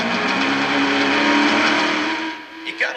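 A Class 1 Unlimited off-road race car with a 400 horsepower engine roars loud and steady for over two seconds, then the engine note drops away and a brief burst follows.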